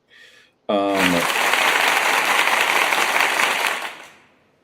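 Crowd cheering and applause at an A7FL football event, loud and sustained for about three seconds after a brief voice, then fading away.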